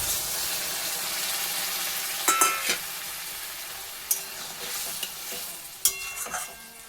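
A small splash of water goes into a pan of fried fish for a Bengali fish curry, bringing up a bright hiss, with sharp utensil clatters and stirring scrapes over the sizzle.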